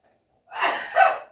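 A single short sneeze bursts out after a moment of silence, a quick two-part burst close by.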